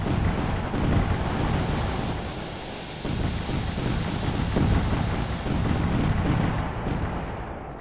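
Fireworks in the Fireworks Mania video game go off in a dense, continuous barrage of deep rumbling booms and crackling blasts. The noise is loud throughout, with one brief dip partway through.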